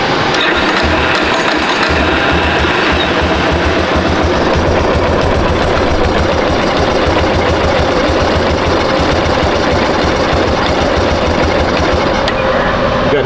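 A Yamaha Warrior motorcycle engine idles low and rough, a loud, close, continuous rapid thumping with a steady low pulse and mechanical clatter, no talk over it.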